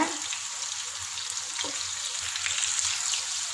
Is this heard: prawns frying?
yes